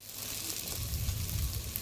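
A soft, steady sizzle of ginger, cumin and coriander paste sautéing in a pan, low and even for a couple of seconds.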